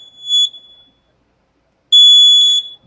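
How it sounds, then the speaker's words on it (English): An Unagi electric scooter's horn gives two shrill electronic beeps, a short one followed by a longer sustained tone, loud and close with silence between them. "And I love that horn for safety reasons."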